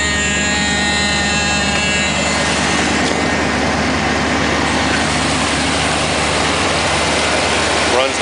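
A 1975 Corvette engine idles steadily and smoothly, a loud continuous low rumble with a broad hiss layered over it. A faint high whine fades out after the first couple of seconds.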